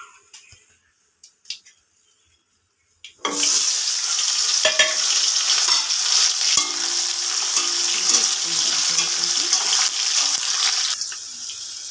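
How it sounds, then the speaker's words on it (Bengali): Potatoes dropped into hot oil in a kadai, a few quiet handling sounds, then a sudden loud burst of sizzling frying that continues steadily with occasional stirring scrapes, and no talking. "এবার আলুগুলো আমি কড়াইতে দিয়ে দেবো"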